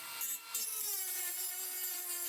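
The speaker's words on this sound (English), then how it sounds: "I use a combination of my Dremel and my saw to cut out the centre." Steady rasping of a tool cutting through wood, with a brief pause early on, then continuous grinding friction, close up.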